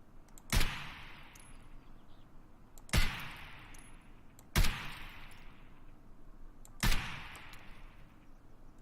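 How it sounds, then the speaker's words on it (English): Four single AK rifle shots fired in Escape from Tarkov during a bullet drop test, each a sharp loud crack with a short decaying tail, spaced roughly two seconds apart against a quiet background. "that wasn't the SKS, sorry, that was the AK"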